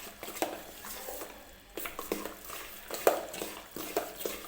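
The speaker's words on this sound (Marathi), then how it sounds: "तर सोडा टाकल्यावर आपल्याला हे व्यवस्थित मिक्स करून घ्यायचं आहे." Rava appe batter is stirred after baking soda is added, a soft scraping swish of a spoon through thick batter in a bowl with light clinks against the rim, repeated in quick strokes.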